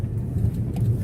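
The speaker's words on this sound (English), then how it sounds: "I guess you notice we're back in the car again." A car's interior hums with a steady low engine and road drone while riding, even and moderately loud with no talk.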